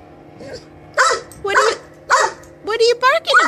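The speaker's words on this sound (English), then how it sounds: "What are you barking about?" A dog barks several times in short, sharp bursts, close by, with a few quick yips clustered toward the end, after a plane passes.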